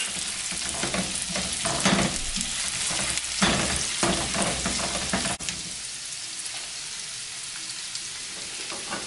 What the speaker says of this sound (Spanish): le voy a agregar la cebolla cortada en cuadritos. Vamos a dejar cocinándola por unos segundos